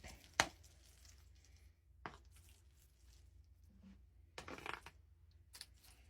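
Macaroni salad for Easter being mashed in a deep dish, a few scattered soft squishing and clinking knocks spaced apart, quiet and close with near silence between them.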